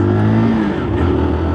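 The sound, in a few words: AJS Bilston motorcycle engine revving as it pulls away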